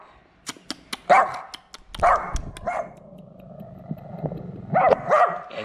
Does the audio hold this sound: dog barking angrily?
yes